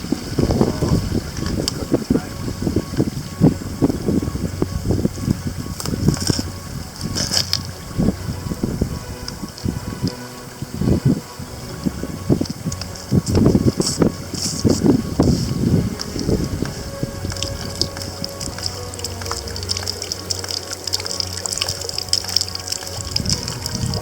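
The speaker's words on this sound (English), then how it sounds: "gonna filter some water here out of this little stream" Stream water being drawn through a Katadyn hand-pump water filter beside a small stream in the Superstition Mountains, with a steady trickling and gushing of water and repeated pumping strokes close by, continuous throughout with no talk.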